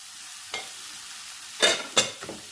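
Cooked, mashed chana dal being stirred in melting ghee and sugar in a pan, a low sizzle broken by a few sharp scraping strokes of the spoon, no talking.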